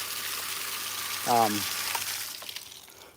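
Two pumps flush water out of a water tank with a continuous, even rush, and a voice briefly speaks over it before the flow quietens.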